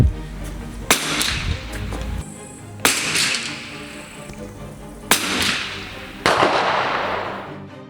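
Sport rifle shots fired at a youth national defence camp: five sharp, loud cracks spaced one to two seconds apart, each followed by a brief ringing decay in the open air.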